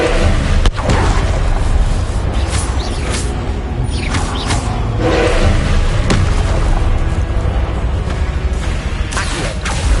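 Confringo blasting spell in the video game Hogwarts Legacy, loud booming explosions and whooshing impacts layered over dense, continuous game noise, with several sharp hits spread through the passage.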